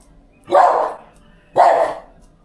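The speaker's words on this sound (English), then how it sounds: "Are you going to be good and stop barking so I can give you a treat?" A dog barks twice, loud and close, with two separate full barks about a second apart in a quiet summer garden.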